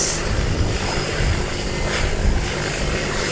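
Airliner at Wellington Airport, a loud broad engine roar sustained throughout, heard from nearby without speech.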